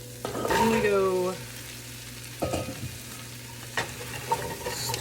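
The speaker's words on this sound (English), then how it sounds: "Stir that around, incorporate into those beautiful seasoned sweaty vegetables" Carrots and sweet potatoes, four large carrots and one large sweet potato, stirred in a pot of seasoned vegetables for curried carrot, sweet potato and ginger soup, giving a steady sizzle with scraping stirs, a few clatters and a brief voice.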